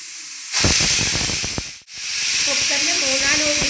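A pressure cooker cooking fenugreek rice porridge with raw rice bursts into a loud, steady steam whistle and hiss that holds strong, briefly dips, then resumes, close and dominant throughout.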